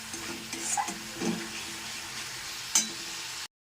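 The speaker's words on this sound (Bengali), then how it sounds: "আদা রসুন পেস্টটা দিয়ে আমি কাঁচা গন্ধ চলে যাওয়া পর্যন্ত এটাকে একটু ভালো করে নেড়ে চেড়ে নিচ্ছি" Ginger garlic paste fries in a pan for doi katla, a low steady sizzle with a few soft stirring scrapes, close and quiet, with a faint tonal hum underneath and an abrupt cut near the end.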